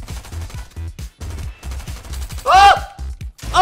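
Rapid bursts of gunfire in Fortnite, following a player's pistol pickup. Dense repeated shots fill the clip with short pauses, and a louder burst with ringing comes near the end.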